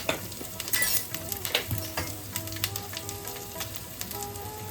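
Ginger paste and turmeric frying in a pan with five-spice seeds, a close crackling sizzle broken by sharp pops and spatula scrapes, with no voices.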